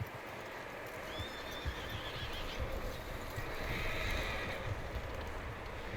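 A skittish horse in Red Dead Redemption 2 gives a short whinny that rises over a steady outdoor ambience, with scattered hoof clops and movement nearby.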